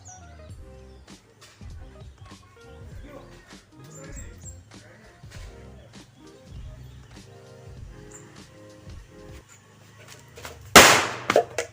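After stretches of talk and small clicks, a firecracker lit outdoors for an experiment, with the camera set well back, goes off in a single sharp, loud bang near the end.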